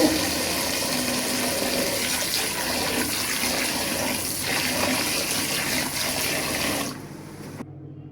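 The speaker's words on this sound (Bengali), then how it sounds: "মুরগির মাংসগুলা পানি দিয়ে ভালোভাবে পরিষ্কার করে" Running water gushes steadily from a tap as chicken meat is washed, a continuous loud splashing that stops abruptly near the end.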